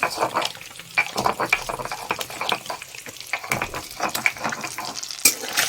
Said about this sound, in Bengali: ডিমগুলো একটু হলুদ দিয়ে ভেজে নেব